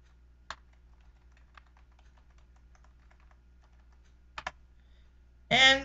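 A few isolated clicks from a computer keyboard come through a quiet room, spaced out as single keys are pressed, ending with a brief louder burst.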